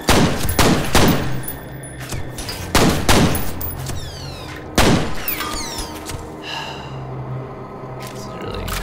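Heavy gunfire from the first-person shooter F.E.A.R., loud repeated bursts and single shots with echoing tails, close and punchy, interleaved with a few metallic pings and quieter gaps.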